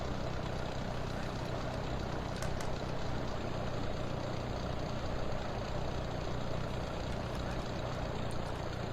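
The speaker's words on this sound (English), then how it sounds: "you still got your engine sound" Aircraft engine in the Sierra Pro Pilot 98 flight simulator game drones as a steady, unchanging low hum, fairly quiet and uninterrupted, with no talking.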